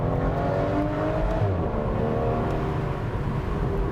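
The V12 engine of a 2014 Aston Martin Vanquish Volante revs loudly and continuously, its deep multi-toned roar rising and shifting pitch, with no talking.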